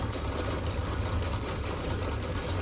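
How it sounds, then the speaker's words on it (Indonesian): A Suzuki Katana motorcycle engine idles and runs steadily with the throttle held open while its radiator is refilled with coolant, a continuous close mechanical drone with a fast, even pulse and no talk. "masih saya tekan gasnya, usahakan jangan sampai mati."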